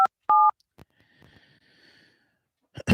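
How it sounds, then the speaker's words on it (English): A phone keypad sounds a few short dial tones, one longer, followed by quiet breathing and a faint ringing tone, then a brief noise at the end. "As long as we can get John Arman to answer his phone now"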